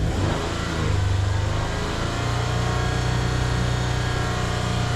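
The engine of a 2011 Toyota Sienna with a lean-running fault is revved, rising to a loud steady drone and held up before easing slightly, close and alone without talk.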